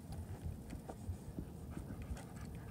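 An XL bully dog pants steadily while tugging on a toy attached to a bungee cord, a continuous close, rough breathing rhythm with no talk.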